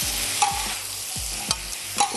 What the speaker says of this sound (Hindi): 1 प्याली आपने ले लेनी है चॉप्ड कटी हुई प्याज, और इसको थोड़ा सा हम फ्राई करते हैं